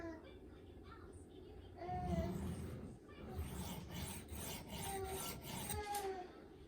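A kitchen knife is stroked repeatedly against a sharpening stone, giving steady close rasping scrapes in a continuous rhythm that grow slightly louder partway through, with faint background noise.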